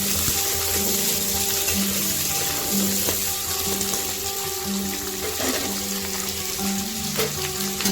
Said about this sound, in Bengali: এবার দিয়ে দেব জল ঝাড়িয়ে রাখা আলু। দিয়ে ভালো করে নেড়ে নেব।